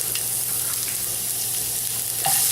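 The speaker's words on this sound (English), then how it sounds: "we've got a good sizzle going on there" Hot oil sizzles steadily in a frying pan, a continuous crackling hiss close by, with a slightly louder flare near the end.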